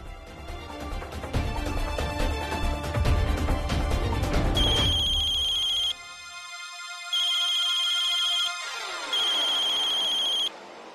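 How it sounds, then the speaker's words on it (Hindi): A mobile phone ringtone plays loud and alone in a home scene: a bright, repeating electronic melody in a few bursts with short gaps, after a stretch of dramatic background music. "किसका फोन है"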